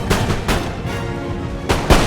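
Musket volleys and artillery fire ring out in a line battle in the strategy game Empire Total War, a few heavy booming shots and crackling volleys, loud and close with no voices.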